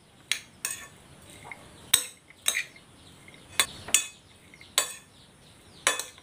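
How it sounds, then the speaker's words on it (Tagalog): A utensil clinks and scrapes against a dish while seasoned milkfish with ginger is stirred for steaming, giving about a dozen sharp, close metallic strikes in an uneven rhythm. "Haluin natin."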